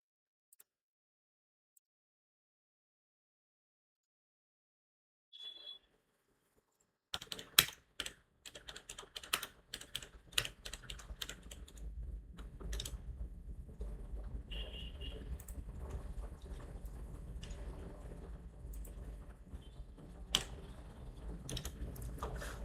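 Code being typed on a computer keyboard: after several seconds of near silence and a brief tap, a rapid continuous stream of key clicks and clacks runs on, close and moderately loud, with no speech.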